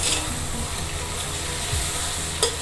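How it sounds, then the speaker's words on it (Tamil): Marinated mushrooms sauté in a hot pan with a steady, close hiss of sizzling and one brief clink near the end. "மஷ்ரூம் வந்து இப்போ வதங்கிட்டு இருக்கு இல்லையா, அது வதங்கட்டும்."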